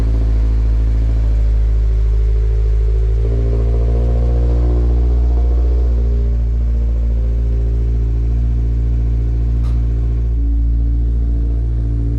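A Toyota GR86 with an aftermarket cat-back exhaust idles steadily while warming up, with a deep, throaty exhaust rumble, loud and close, holding a low droning note without revving.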